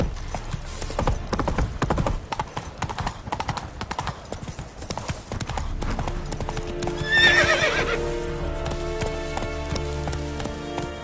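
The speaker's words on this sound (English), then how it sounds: "Run, Roach" Horse galloping in The Witcher 3 video game, with rapid close hoofbeats over rain and a loud whinny partway, followed by a steadier trot under a musical score.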